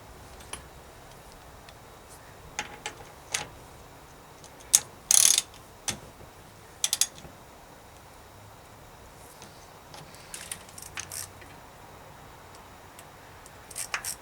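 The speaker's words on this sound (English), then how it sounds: "We're going to stick that in there, screw it in." Bicycle freehub being screwed into a hub during a 6-speed to 7/8/9-speed conversion, giving scattered faint clicks and ratcheting ticks with a brief louder grinding burst, close by in a quiet workshop.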